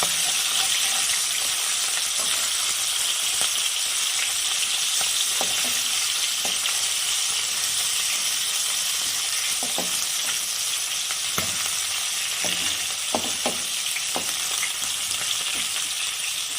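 Catla fish head frying in oil, turned onto its second side, giving a steady loud sizzle for the whole stretch with occasional clicks and scrapes from a utensil; no voices.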